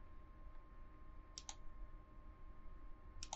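Two crisp, faint key clicks on a computer keyboard, one near the middle and one at the end, against a steady low electrical hum in a quiet room.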